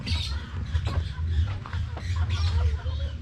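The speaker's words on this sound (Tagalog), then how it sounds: "Yan, mga alagang manok." Native chickens cluck and murmur close by, a steady low clucking running throughout with occasional higher calls mixed in.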